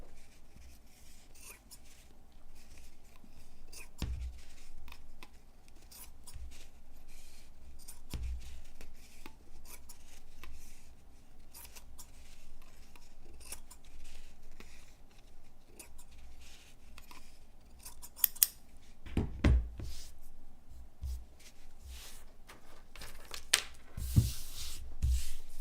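Scissors trimming fabric for a no-sew quilted star ornament: quiet, sparse snips and soft rustling at close range, with a few sharper cuts near the end.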